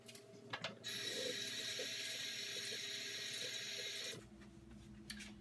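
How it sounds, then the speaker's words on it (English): Tap water runs steadily for about three seconds while hands are washed in a kitchen during raw shrimp prep, a continuous broadband rush with faint clicks and handling noise, starting and stopping abruptly. "I'm going to wash my hands"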